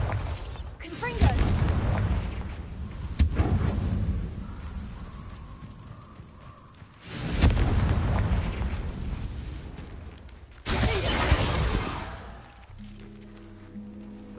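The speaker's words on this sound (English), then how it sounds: "Confringo!" Confringo fire-blast spells in Hogwarts Legacy, sounding as a string of loud booming explosions, each with a sharp onset and a rumbling tail, separated by short gaps, with game music underneath.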